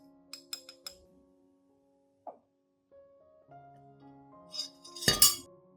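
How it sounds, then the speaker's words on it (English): A spoonful of cinnamon powder going into a clean glass cup: light clinks of the spoon against glass, a couple of small taps, then a louder rattling clink near the end, close and alone without speech. "add 1 spoon of cinnamon powder into that glass cup"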